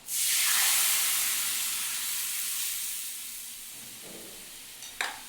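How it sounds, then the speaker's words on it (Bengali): Lentils are poured into hot oil seasoned with panch phoron, setting off a loud burst of sizzling hiss that gradually fades over several seconds, followed by a couple of faint clinks near the end. "পাঁচফোড়নটাও বেশ সুন্দর তো তেলের মধ্যে ভেজে নিলাম এই যে ডালটাও এর মধ্যে ঢেলে দিলাম"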